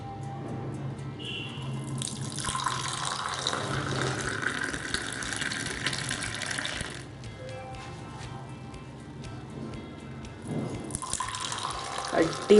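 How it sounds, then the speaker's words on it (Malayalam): Hot masala chai poured from a pan into a glass, a running liquid stream with splashing that rises and pauses, close and moderately quiet, with light background noise. "അപ്പം നമ്മളിത് ഗ്ലാസ്സിലോട്ട് ഒഴിച്ചു കൊടുക്കുകയാണ് ചായ."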